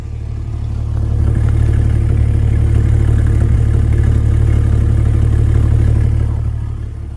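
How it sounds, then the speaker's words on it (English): The exhaust of a 1998 Jeep Cherokee XJ Limited at idle, a deep steady low rumble that fades in, holds evenly close by for several seconds, then eases off. "That's the exhaust to idle."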